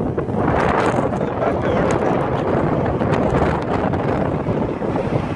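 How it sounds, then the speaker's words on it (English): Strong wind roars steadily and loudly across the microphone, a constant rushing buffet with no let-up throughout. "It's really windy out there."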